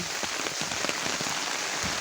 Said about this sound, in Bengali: এই বৃষ্টি ভেজা দিনে অফিস যাচ্ছি